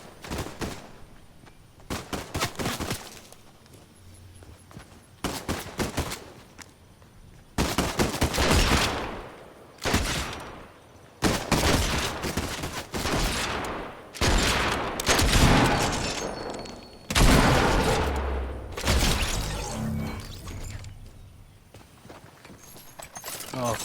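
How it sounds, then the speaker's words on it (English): Enemy gunfire in a busy video game area, loud bursts of rapid shots in clustered volleys separated by short gaps, with someone talking between and over them. "Who's firing at me now?"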